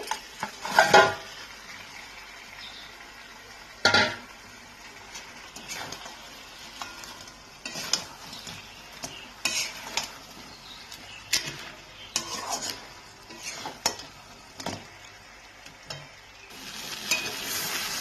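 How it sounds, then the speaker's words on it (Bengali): Bhetki fish head and bones fry in masala in a pan with a soft sizzle under repeated stirring. Loud spoon scrapes and clanks against the pan recur irregularly. "মাথাটাকে দেওয়ার পর আমি কিছুক্ষণ এটাকে দিয়েও কষিয়ে নিচ্ছি।"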